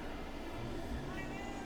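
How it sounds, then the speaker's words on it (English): Ringo, a pet cat, lets out a faint meow close by over quiet background sound, a single short call in a hushed room. "that's my co-host Ringo the Cat."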